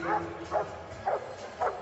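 A high-drive dog at a dock diving competition barks four times in an even rhythm, close and fairly loud, with a murmur of crowd noise underneath.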